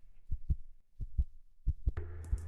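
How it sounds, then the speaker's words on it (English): Heartbeat sound effect, low thudding double beats repeating at a slow steady rhythm, four pairs in a row, followed by a sustained tonal swell at the end. "I hear the heartbeat in my headphone"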